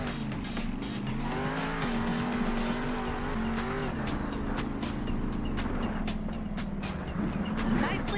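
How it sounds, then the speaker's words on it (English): A monster truck in Monster Jam Steel Titans rumbles with a steady droning engine and tire noise while slowing down, with brief squeals and faint voices over the continuous roar. "Now we are going to practice braking. Try to stop your truck inside the glowing zone"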